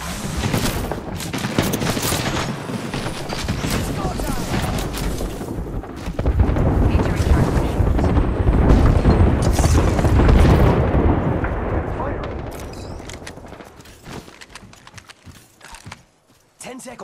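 Gunfire in the Apex Legends battle royale game, rapid bursts of shots and heavy impacts crackling densely for most of the stretch, building louder in the middle before thinning out toward the end.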